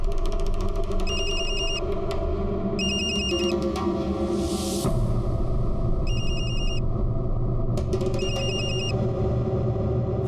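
A telephone bell rings in short repeated bursts, four rings spaced apart, over a low continuous rumble.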